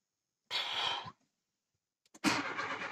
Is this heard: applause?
no